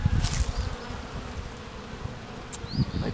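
Tree bees buzz close by in a steady drone with louder passes now and then, over a low rumbling background.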